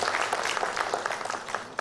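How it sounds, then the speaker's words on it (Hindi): An awards-ceremony crowd at a national excellence awards event breaks into brisk, dense applause, a steady clatter of many hands that runs the whole short stretch. "आवाम के तालियों की गड़गड़ाहट में बात बन जाए"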